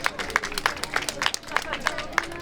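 Audience applauding at an outdoor festival, a loose run of claps with some louder close hand strikes, under crowd chatter and voices.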